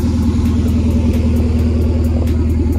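A Nissan S14 running on headers only with no exhaust, its cold engine holding a loud, raspy, steady idle-to-rev drone with pulsing low throb, close up and alone without voices.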